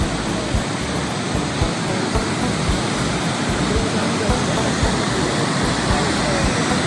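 Steady, dense rushing of falling water, loud and continuous throughout with no breaks.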